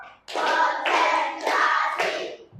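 A classroom of students clapping a rhythm in unison, four loud, even bursts of many hands about half a second apart, close and clear with near silence before and after.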